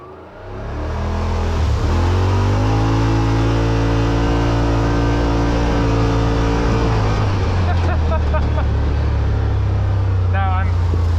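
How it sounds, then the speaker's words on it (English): Yamaha RMAX2 1000 side-by-side with a 108-horsepower engine starts up and runs loudly, a steady droning idle with strong low harmonics rising into sustained revving, close and alone. "the RMAX2 is noisy"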